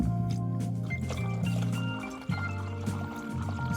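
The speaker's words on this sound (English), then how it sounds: "Alright, let's pour some more water." Water poured onto a Philips alarm clock gives a trickling, gurgling splash over the clock's steady electronic hum, close and fairly quiet, with a brief shift partway through.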